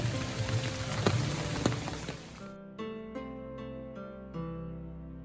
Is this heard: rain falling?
yes